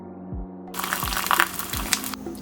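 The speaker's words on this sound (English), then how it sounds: "We built a water bubbler in our crib." Water pours steadily from a home-built water bubbler indoors. The gushing, splashing flow comes in abruptly and stays loud and continuous, with a low hum underneath.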